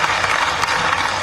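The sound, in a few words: audience applause for Atal Bihari Vajpayee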